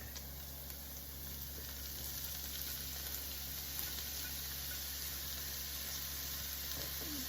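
Ground beef sizzles steadily in a pan with vegetables and tomato paste, a continuous close frying hiss with no talk over it.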